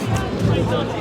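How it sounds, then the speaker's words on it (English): Dense babble of a huge crowd of Welsh farmers, families and supporters at an outdoor protest, many voices blending into a steady close murmur with no single voice standing out. "Huge crowd."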